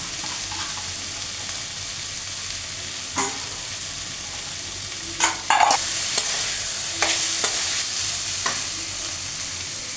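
Carrots dropped into a hot frying pan sizzle steadily throughout, with a few sharper scrapes and stirring clatters cutting in near the middle and later; no voices.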